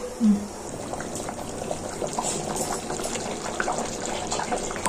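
Water poured into a pan of goat head curry, a short splashing pour at the start followed by soft bubbling and liquid movement at close range.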